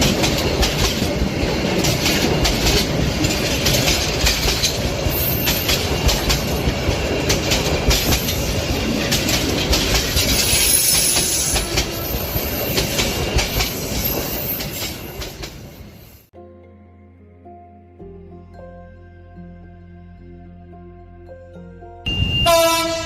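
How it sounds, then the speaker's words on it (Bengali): Cartoon-style train sound effect of a train rolling on rails, loud and steady with rhythmic rumbling and clatter, ending in a sudden cut to quieter tonal music, then a brief loud burst near the end. "স্টেশন থেকে ট্রেনে চেপে ঠিকই ছেড়েছিল এই গ্রামটি"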